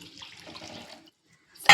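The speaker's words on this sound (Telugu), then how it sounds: "కావలసినంత వాటర్ వేసుకొని" Water is poured into a cooking pot while preparing chaat, a soft splashing stream for about a second, then a pause and a sudden louder splash at the end.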